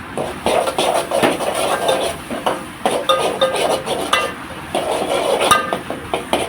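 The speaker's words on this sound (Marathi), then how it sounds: "चांगल्या पद्धतीने सगळे मसाले भाजले की त्यामध्ये अद्रक लसणीची पेस्ट टाकून आपल्याला भाजून घ्यायचं आहे." Spices and ginger-garlic paste roasting in a pan for a crab curry, heard as clinks and scrapes of a spoon against metal over a soft sizzle, with no talking.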